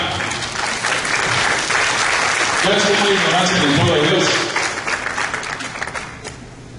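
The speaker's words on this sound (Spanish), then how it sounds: "Vamos a darle un aplauso al hermano" A church congregation applauds loudly and continuously, many hands clapping in a thick roar, while a voice keeps speaking over it.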